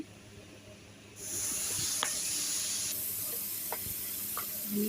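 Ridge gourd and potato poppy-seed dish cooking on a stove, a steady sizzling hiss that jumps louder after a second, with a few faint clinks over it.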